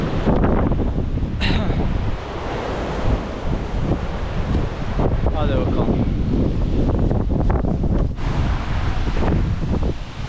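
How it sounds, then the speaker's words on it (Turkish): Heavy wind buffets the microphone continuously at a lakeside mountain viewpoint in Chile, a loud rumbling roar throughout, with a person briefly speaking over it. "Yine başlıyor bizim rüzgar."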